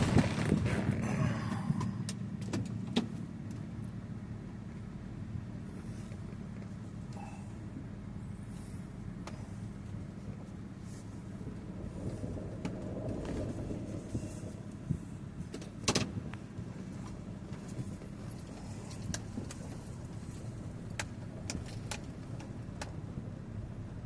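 A stock pickup truck drives up a road, its engine and road noise a steady low hum heard from inside the cab, with a few brief knocks and clicks along the way.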